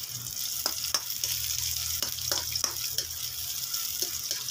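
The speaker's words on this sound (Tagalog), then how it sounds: "Magigisa tayo ng mga rekado. Unahin natin yung sibuyas" Onion and ginger sautéing in a pan, a loud steady sizzle with repeated sharp spatula taps and scrapes spaced irregularly, close up and without talk.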